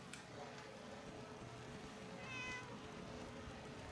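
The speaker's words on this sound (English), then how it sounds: "This is actually a pretty good cat model." A single drawn-out cat meow sounds in a VR video game, faint over a continuous low background hum.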